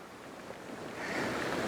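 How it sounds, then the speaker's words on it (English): Soft, steady wash of sea waves breaking on a shore, a continuous hiss that swells slightly louder toward the end, heard from some distance with light wind and no voices. "Just listening to the waves,"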